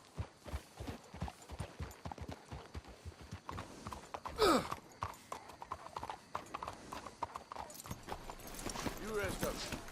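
Horses clip-clop at a steady walking rhythm in Red Dead Redemption 2, close and fairly loud, with a brief whinny midway while characters talk quietly over the hoofbeats.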